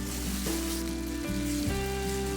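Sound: spices being fried and stirred in oil

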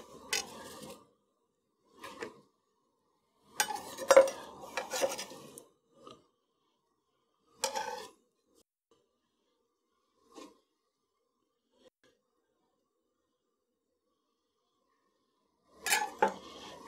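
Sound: stirring apple and cabbage in a pot

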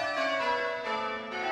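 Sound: church bells being rung by bell ringers

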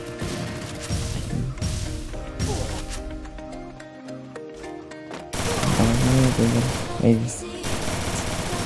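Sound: grenade explosion in a battle royale video game

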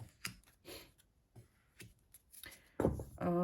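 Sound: shuffling cards

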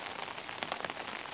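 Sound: rain falling

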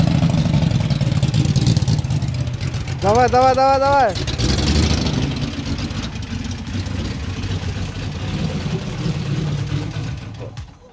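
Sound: Mercedes W116 engine running with loud exhaust

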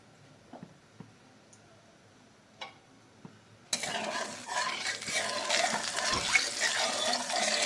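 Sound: onions frying in oil

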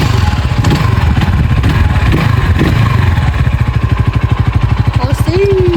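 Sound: Ford Mustang ST200 moped engine revving

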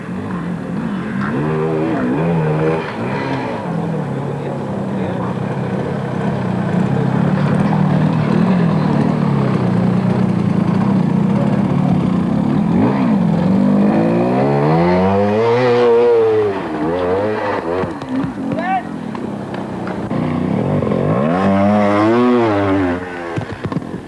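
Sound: trial motorcycle engines in mud, 1988

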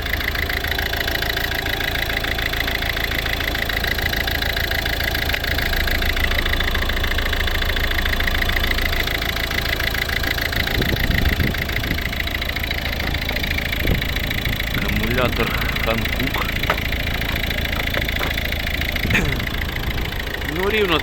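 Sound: diesel car engine idling

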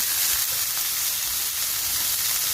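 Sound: frying string beans and bitter gourd in a pan

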